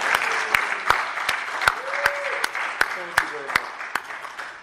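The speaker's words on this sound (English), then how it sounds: "please let's give a round of applause for the 3 biggest names in hard-boiled literature" A convention panel audience at San Diego Comic-Con 2019 applauds steadily with sharp crisp claps scattered through the clapping, and some faint voices underneath.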